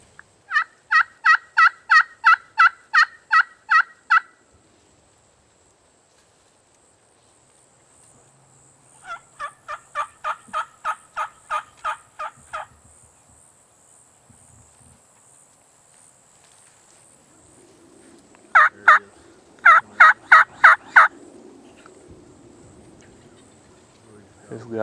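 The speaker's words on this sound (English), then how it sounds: "This gobble." A wild turkey in Florida gobbles in three loud rattling bursts, each a rapid string of throaty pulses separated by long quiet gaps, with faint rustling and movement near the end.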